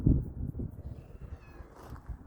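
A farm cat meows several times in quick succession, close and fairly loud, the calls rising and falling over a quiet outdoor background.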